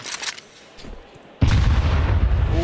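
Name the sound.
grenade explosion in Counter-Strike video game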